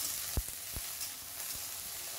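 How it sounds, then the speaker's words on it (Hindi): Potatoes fry in a kadhai after a tempering of cumin, garlic and red chili, giving a steady soft sizzle with a few low knocks from stirring, and no one speaking. "आलू डाल करके इसको थोड़ी देर के लिए फ्राई करेंगे"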